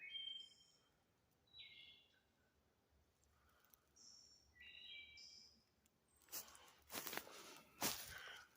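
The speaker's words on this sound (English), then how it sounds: "That's a pretty sounding bird." Out in the woods, a songbird gives clear, faint whistled phrases, repeated several times with short pauses between them. Near the end come crunching footsteps and rustling close by.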